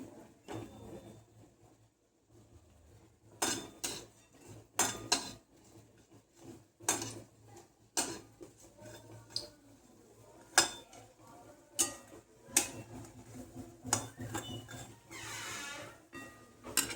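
Dishes and cutlery clatter while matar pattice is served in a home kitchen, with repeated sharp clinks and knocks of plates and utensils scattered irregularly through a quiet background.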